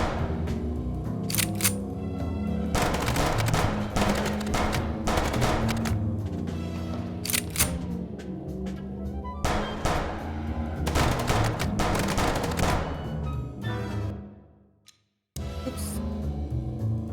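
Gunfire in the video game Chicken Police: dense, rapid volleys of shots blur into loud, sustained bursts. They fade out into a brief silence, then resume abruptly.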